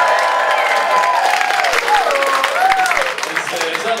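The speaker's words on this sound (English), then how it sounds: "Big cheer for Denise and her vagina!" A comedy club crowd cheers and applauds steadily, with whoops and a shouted voice rising over dense clapping that carries through the whole stretch and eases only slightly at the end.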